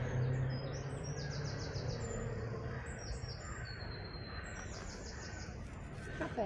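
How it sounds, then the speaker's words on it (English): Birds call in the gardens at Sewerby Hall, with a string of high, repeated chirps and trills drifting over a steady outdoor background, moderately faint and fairly distant. "That bird's really pretty."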